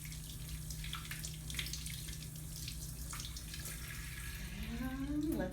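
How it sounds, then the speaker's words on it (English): Tap water running steadily into a sink during handwashing, a soft constant splash with a low hum underneath and a rising squeaky tone near the end. "Our great hand washing technique."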